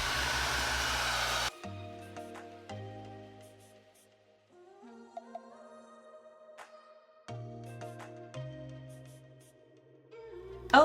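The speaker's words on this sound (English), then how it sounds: "So I have my diffuser here, and we're just gonna go in and diffuse." A hair dryer fitted with a diffuser blows a loud, steady rush of air while drying hair, lasting only a second or so before it cuts off and soft music continues alone.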